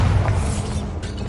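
The Bombarda explosion spell in Hogwarts Legacy lands with a short, heavy, low boom and rumble, loud and close, then settles into a brief fading roar.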